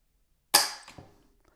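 A dry-fire trigger pull on a Smith & Wesson 15-22 rifle with its factory trigger: a single sharp metallic snap, close and isolated in quiet, followed by a faint secondary click.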